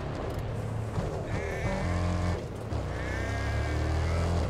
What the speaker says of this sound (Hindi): यहाँ पे कुछ हिरन वगैरह हैं, बकरी हैं शायद, बकरी बोल सकते हैं इनको।